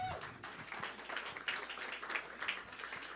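Scattered clapping from a small audience inside Caffe Lena during a live music evening, moderately quiet and a little distant, with a few voices mixed in beneath the claps.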